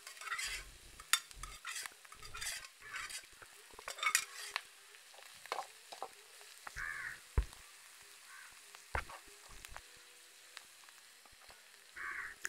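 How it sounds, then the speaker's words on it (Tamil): Repeated scraping and clattering of a utensil stirring oyster meat in a pan, with a soft sizzle underneath and irregular knocks against the metal. "அந்த சிப்பியோட சதையை வந்து உள்ளே போட்டாச்சு. போட்டு நல்லா கிண்ட போகிறோம்."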